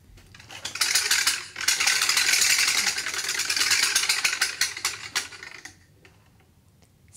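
A prize wheel spun at a school event, giving a fast run of clicking ticks from its pointer that is steady at first, then gradually thins and slows as the wheel coasts to a stop.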